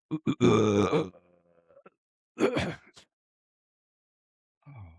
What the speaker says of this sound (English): Was that a real burp, the first part?